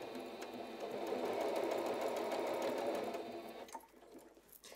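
A sewing machine runs a fast steady stitching whir at close range for several seconds, then slows and stops with a few small clicks at the end.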